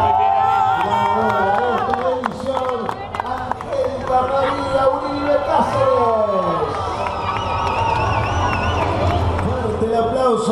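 Crowd at an award ceremony for a cycling event cheering and clapping, a dense roar of voices and applause throughout, with an announcer's voice speaking over the noise.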